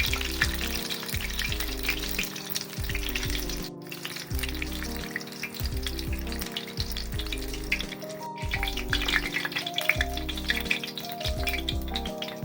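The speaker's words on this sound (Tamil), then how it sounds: "கறி போண்டா நல்லா வெந்துடுது" Beef curry bonda deep frying in hot oil, a steady bubbling sizzle with repeated pulses and stirring, continuous and close with no talk.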